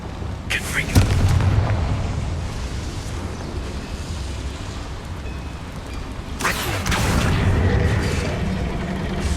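Two heavy explosive blasts from the Confringo spell in Hogwarts Legacy, set in a small mine. Each is a deep, booming burst that rumbles and fades, several seconds apart, over a steady ambient background.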